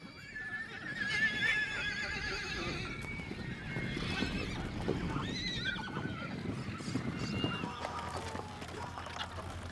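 Horses whinny and neigh repeatedly over steady hoof clip-clop and shuffling, close by, with birds calling faintly in the background.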